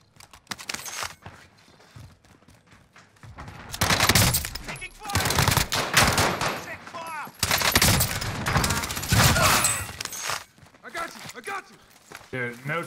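Call of Duty: Warzone gunfire comes in long, loud automatic bursts, dense rattling volleys that start and stop several times, with players talking over the shooting.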